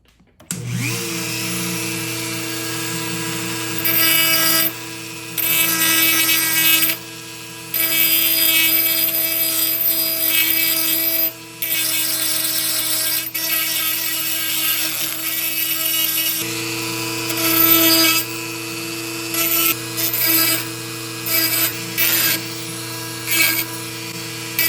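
A Dremel rotary tool whines at high speed while working on a vintage lamp, running in loud steady bursts that stop and restart several times, close up, with no voices over it.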